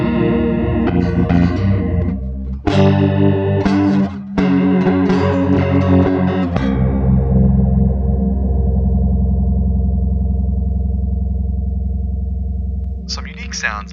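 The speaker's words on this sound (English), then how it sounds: "this dark and detuned preset called Bad lends itself very nicely to a grungy," Electric guitar through a multi-modulation pedal's dark, detuned preset: a few strummed chords with warbling, chorused distortion, then a long sustained ringing chord that slowly decays, loud and close, with no talking.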